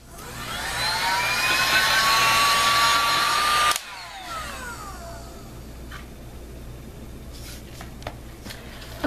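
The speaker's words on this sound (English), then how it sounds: "This is actually a professional heat gun that I bought for my encaustic painting." A professional heat gun blow-drying an encaustic painting, a loud continuous whooshing whine that drops in pitch as the gun switches down partway through, then runs on more quietly with faint handling clicks.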